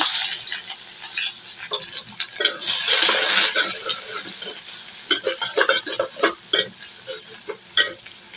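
Onions hit leftover fish-frying oil in a cooking pot, producing a bright steady sizzle with intermittent clinks and scraping taps of a utensil against the pot.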